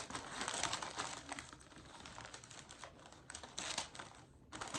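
Close, crisp crinkling and snipping as scissors cut through gift wrapping paper, a busy run of papery rustles and cuts at low volume, without talk.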